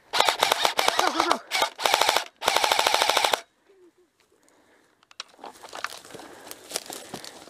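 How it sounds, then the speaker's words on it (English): Airsoft gun firing rapid cover fire outdoors among trees and bushes, several dense bursts of fast clattering shots close by, then a quieter stretch of rustling and faint shuffling. "You want me to give you cover fire?"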